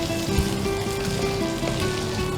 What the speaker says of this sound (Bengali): ভালো করে নেড়ে একটু সাঁতলে নেবো